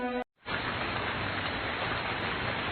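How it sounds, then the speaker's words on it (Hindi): A brief tone cuts off, then steady rain hisses evenly and fills the rest. "ऐसे ही बारिश होती रहती है"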